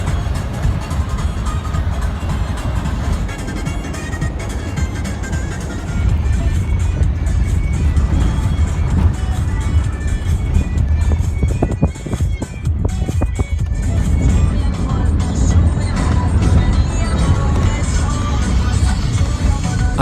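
A car cruises along a long road toward the Afghanistan border, its engine and tire rumble a steady, close drone throughout, with faint voices now and then under the road noise.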